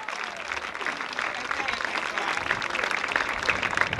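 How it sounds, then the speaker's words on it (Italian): An audience in Alghero applauds during a live comedy show, dense sustained clapping filling the whole stretch at a steady, lively level. "fate questo applauso e via così"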